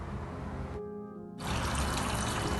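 Water poured into a pot of chicken bones with sliced ginger and coriander stems, a steady liquid splash that starts after a short pause and grows fuller and louder as the pot fills, with no talking.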